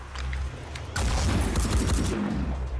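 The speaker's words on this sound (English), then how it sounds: "We can shoot the machine gun." Loud sustained burst of machine gun fire from the video game Phoenix Point, a dense rapid rattle of shots over a low rumble that lasts about two seconds.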